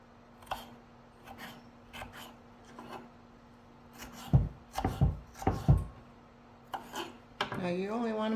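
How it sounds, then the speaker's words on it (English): A knife dices a peeled potato into small cubes on a board, with scattered crisp chops and scraping taps, a cluster of louder cuts in the middle, and a voice starting near the end. "We're going to dice it up into small cubes."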